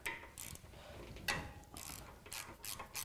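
A ratchet loosening the T40 bolt holding the brake lines on a motorcycle's lower triple tree, quiet rapid pawl clicking in several short bursts at close range.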